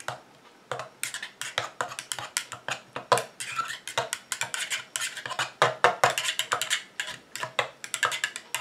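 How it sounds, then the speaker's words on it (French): A utensil clinks and scrapes rapidly against a container while stirring calamine powder into water, a dense run of sharp, close taps and rattles with no talking. "Et je mélange."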